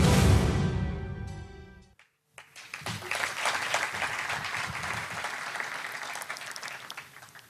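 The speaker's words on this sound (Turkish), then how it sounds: "Alkış daha kuvvetli olsaydı mutlu olacaktık." A crowd at a journalists' award ceremony in Antalya breaks into sustained applause after the music cuts out, a dense, even patter of clapping that continues to the end.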